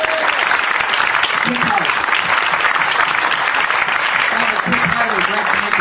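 Live comedy-show audience clapping for a comedian, a dense, sustained round of applause filling the whole stretch at steady loudness, with a voice speaking briefly over it.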